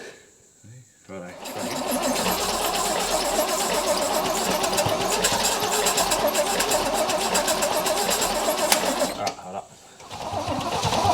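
Holden HT ute engine cranking over steadily for several seconds as it tries to start, close and loud, cutting off abruptly, with people talking before and after.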